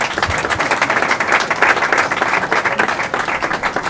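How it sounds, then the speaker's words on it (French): Sustained crowd applause from an audience at a Kinshasa opposition party gathering, a dense, steady patter of many hands clapping at fairly close range with no clear voices over it. "Applaudissez pour lui."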